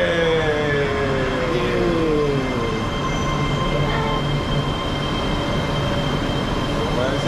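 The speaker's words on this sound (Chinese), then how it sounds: "李子坝的轻轨穿楼动车体验。" A Chongqing light rail train at Liziba runs through a building with a loud, continuous rumble and high squealing wheels on the rails, heard close and steady throughout with no talk.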